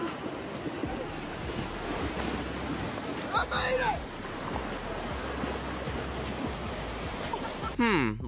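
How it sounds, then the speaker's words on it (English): Water rushes steadily down a small waterfall as people go tubing on it, a continuous broadband wash with wind buffeting the microphone, faint voices rising briefly midway and near the end. "Check out these guys go tubing on a mini waterfall."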